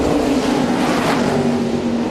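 A NASCAR race car engine on pit road during the 2006 Zippo 200, a steady loud droning hum that holds at one pitch for the whole stretch, with no voices over it.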